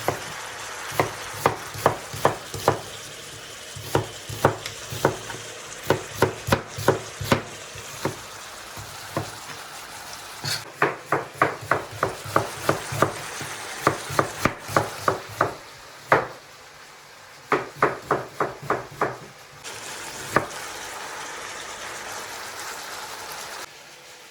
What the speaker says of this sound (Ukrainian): Цибулю ріжемо кільцями.